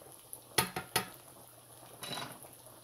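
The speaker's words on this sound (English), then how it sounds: "Give them a stir" Shrimp and sausage pasta sauce being stirred in a cooking pan, a few sharp utensil knocks against the metal followed by a brief softer scrape, close and with no talking.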